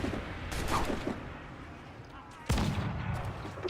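Swivel gun fire in the pirate naval game Assassin's Creed Black Flag: a loud blast near the start, a short lull, then a second heavy boom at mid-clip, over busy battle noise with a voice shouting faintly underneath.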